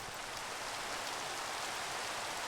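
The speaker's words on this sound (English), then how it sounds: "it's also still raining" Steady rain falls in the RFTools dimension of modded Minecraft, an even, hissing downpour with no breaks, fairly quiet and unaccompanied by voices.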